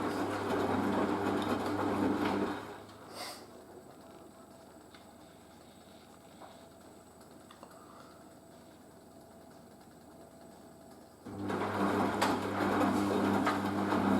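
Merloni Electra WD1100 washer dryer on a 50°C acrylics and delicates cycle, a loud motor hum that drops to a quiet lull for several seconds while the machine tops up, then surges back.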